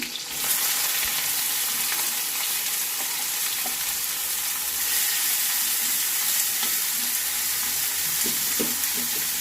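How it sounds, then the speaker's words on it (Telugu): Cumin seeds, green chillies and chopped onions frying in hot oil for a rajma curry, a steady close sizzle with faint stirring crackles running unbroken throughout. "ఆయిల్ హీట్ ఎక్కింది కొద్దిగా జీలకర్ర వేస్తున్నాను తర్వాత పచ్చిమిర్చి ఈ ఉల్లిపాయలు కూడా వేసేస్తున్నాను"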